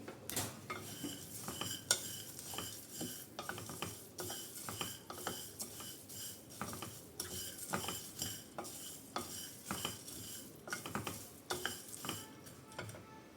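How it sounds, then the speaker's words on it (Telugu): Coriander seeds and other spices dry roast in a pan over a low flame, a steady run of scraping and stirring strokes with faint rattling of seeds and light sizzle, close and fairly quiet, without any voices. "ఇవన్నీ కూడా లో ఫ్లేమ్ పెట్టుకొని ఫ్రై చేసుకోవాలి"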